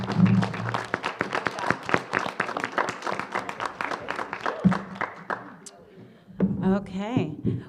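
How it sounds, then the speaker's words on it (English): Audience applause for the panelists at a summit, a dense patter of clapping that fills most of the stretch, then thins out as voices rise near the end. "I want to give you guys a round of applause."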